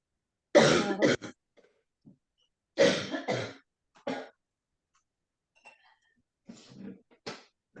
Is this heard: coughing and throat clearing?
yes